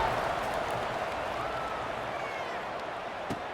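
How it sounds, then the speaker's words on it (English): Stadium crowd noise from a College Football 26 video game match between Nantucket and Saint Louis, a steady broad roar of fans holding at an even level throughout, with no clear peaks. "this crowd is buzzing after that last score"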